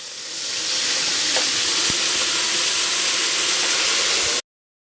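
A steady, loud sizzle of salmon frying in a hot cast iron pan, hissing continuously with a few faint pops before cutting off abruptly.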